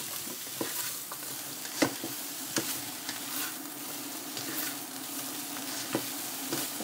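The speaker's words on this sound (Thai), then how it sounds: "ผัดให้ผักสลดนิดนึงค่ะ" Mushrooms and vegetables stir-fried with oyster sauce in a pan give off a soft, steady sizzle, broken by occasional sharper scrapes and knocks of the utensil against the pan, fairly quiet and with no talking.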